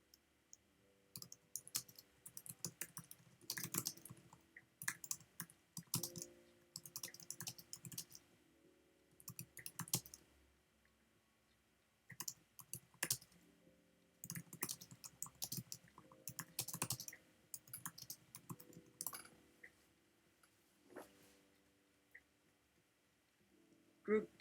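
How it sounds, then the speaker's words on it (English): Fingers tap and type on a computer keyboard in quiet, uneven bursts. Rapid clusters of clicks alternate with brief pauses throughout. "Tap, tap, tap, tapping. Then switch to typing. Then back to taps again."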